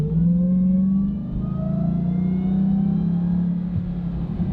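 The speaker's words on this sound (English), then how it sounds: "the whine on this supercharger is amazing" A 2021 Ram TRX truck accelerates with a rising supercharger whine climbing in pitch over a steady low engine rumble, loud and close throughout.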